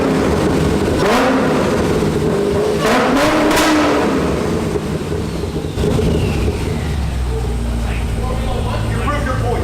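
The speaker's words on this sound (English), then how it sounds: "That is the loudest car I've ever heard in my life." Very loud car engine revving in a garage while car shopping, with deep roaring pulls and throttle blips close to the listener, and people exclaiming over it.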